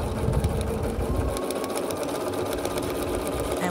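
A sewing machine stitches a foundation paper pieced log cabin quilt block in one continuous, loud, close whir that runs the whole length with no break and no talk.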